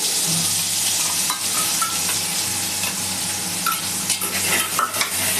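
Soaked spice masala hits hot oil already crackling with cumin, giving a steady loud sizzle with scraping stirring strokes throughout, no voices.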